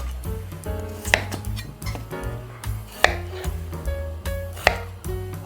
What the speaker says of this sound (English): Next I'm going to cut up into small pieces to make the cooking process a little bit quicker